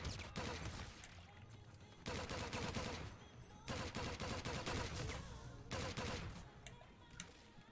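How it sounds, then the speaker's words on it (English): Sci-fi blaster fire in a video game, repeated loud bursts of rapid shots separated by short pauses, with game music and effects running underneath. "It's a pew pew gun!"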